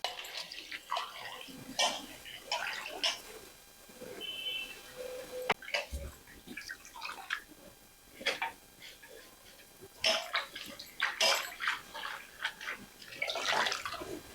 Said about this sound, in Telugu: ఇది శుభ్రంగా కడుక్కోవాలి 2-3 సార్లు.